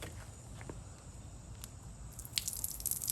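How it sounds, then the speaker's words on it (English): Water trickles and drips faintly from a pressurized camping solar shower, a thin, weak flow heard up close and quietly, with a few small clicks and splashes growing slightly busier toward the end. "Still, we don't have a ton of water flow."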